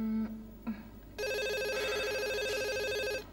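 A telephone in a house rings with a bright electronic trill that sounds two short tones, then a sustained ringing burst of about two seconds, fairly loud and alone.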